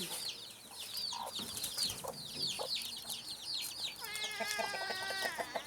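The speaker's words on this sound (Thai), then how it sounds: "มาพาดูไก่ข้าวนอนกันนะคะ" Black hens cluck softly nearby while a mother hen tends her chicks. The chicks' high, thin peeping rises in a cluster toward the end.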